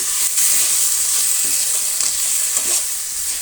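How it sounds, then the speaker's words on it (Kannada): Chopped tomatoes with ginger garlic paste frying in a pan, a loud continuous hiss of sizzling with a few soft stirring scrapes, close up and with no talk. "ಟೊಮೆಟೊ ಚೆನ್ನಾಗಿ ಫ್ರೈ ಆಗಲಿ."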